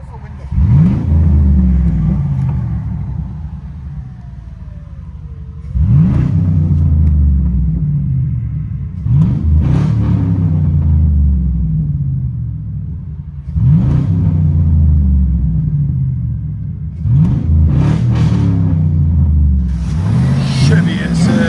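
A straight-piped Chevy Silverado SS with a 6.0L V8 is revved from inside the cab: five loud, booming rev surges rise and fall in a regular cycle, each dropping back to a heavy rumbling idle.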